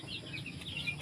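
Backyard roosters and hens cluck and call, with a few short crowing and clucking bursts over a low steady background, moderately close and fairly faint.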